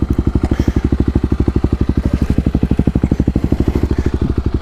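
A 2018 Kawasaki KLX250 single-cylinder motorcycle running close by, its engine thumping in a fast, steady pulse with a rough clattering edge throughout.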